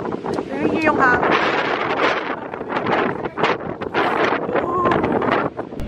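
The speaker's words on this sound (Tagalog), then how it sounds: "Narinig nyo yung hangin." Strong sea wind buffets the microphone in loud continuous gusts outdoors by the sea, with a voice talking faintly underneath.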